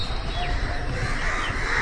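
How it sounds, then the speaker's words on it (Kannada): Crows cawing over green plantation country in Wayanad at early morning, harsh calls fairly faint against a steady outdoor background hiss. "ನೋಡಿ ಕಾಗೆಗಳು ಹೆಂಗೆ ಕಾವು ಕಾವು ಕಾವು ಅಂತ ಹಾರಾಡ್ತಾ ಇದೆ"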